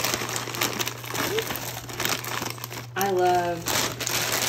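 A bag of frozen cut green beans crinkles and rustles up close in irregular handling bursts, while someone talks briefly.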